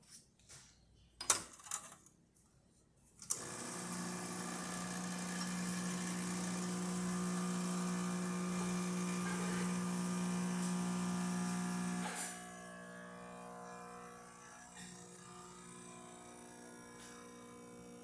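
Lelit Mara espresso machine pulling a shot, its vibratory pump droning steadily with a strong low hum for about nine seconds after a few clicks, then cutting off to quieter drips and hiss.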